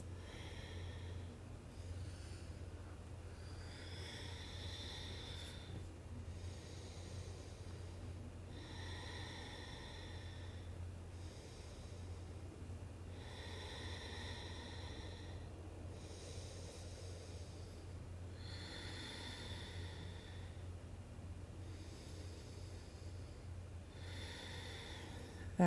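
Deep, slow breathing during a heart- and hip-opening yoga flow, each faint inhale and exhale repeating at a steady rhythm over a low constant background hum, with no talking.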